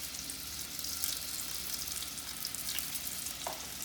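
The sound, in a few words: sweet potato fries frying in hot oil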